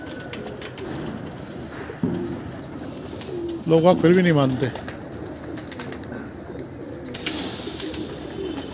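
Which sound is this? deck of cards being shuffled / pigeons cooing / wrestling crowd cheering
pigeons cooing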